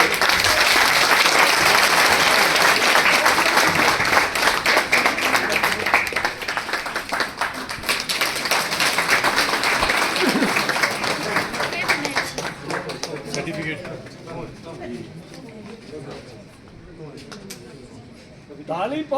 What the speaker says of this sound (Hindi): ताली बहुत जोरदार